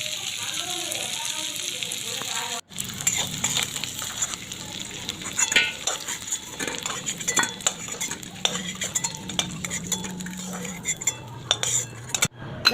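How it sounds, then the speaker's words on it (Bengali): Diced potatoes fry in oil with nigella seeds, salt and turmeric, giving a soft sizzle under repeated scraping and clinking of a utensil stirring the pan, while a person talks over it. "আলুটা সামান্য নুন হলুদ দিয়ে লাল লাল করে ভেজে নিতে হবে।"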